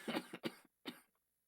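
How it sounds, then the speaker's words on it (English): A short burst of harsh, hacking coughs, three or four rough barks close to the mic, then quiet. "the horrible hacking cough doesn't help."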